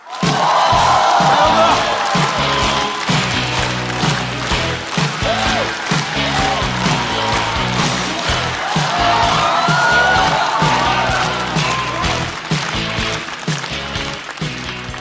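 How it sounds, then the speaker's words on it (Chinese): A stand-up comedy audience applauds and cheers as a comedian walks on, with loud sustained clapping mixed with whoops and shouts that stay strong for the whole stretch and taper slightly toward the end. "掌声欢迎开花俱乐部的主理人小块儿"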